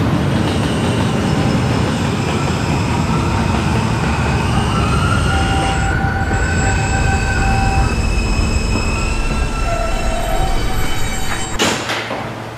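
Subway train running at night on the R line via the N line: loud continuous rumble of wheels on rail with long metallic squeals rising and falling, ending in a sharp burst of noise.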